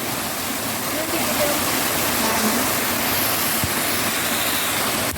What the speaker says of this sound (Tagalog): Ayan, Sapa. Ayun, tubig.